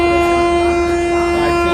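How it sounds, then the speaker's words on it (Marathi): Indrayani Express train at a railway station, a sustained loud tonal horn blast ringing over continuous rail rumble, close and steady throughout. "पाठची इंद्रायणी एक्सप्रेस आहे"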